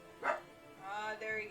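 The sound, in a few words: dog barking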